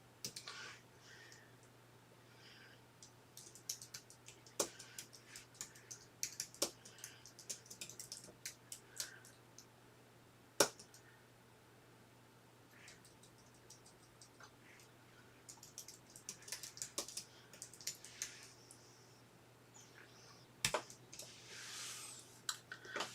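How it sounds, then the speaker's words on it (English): Clicky keystrokes from a computer keyboard come in irregular bursts and scattered single taps, fairly faint and close, over a steady low hum in a quiet room, with occasional louder isolated clacks. "oh, I'm typing in caps."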